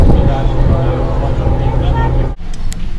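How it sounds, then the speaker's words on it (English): Low engine rumble and water wash from a ferry pulling into port at Supetar on the island of Brač, steady and loud with a faint babble of people aboard, briefly dipping near the end. "our ferry is pulling in to Supatar"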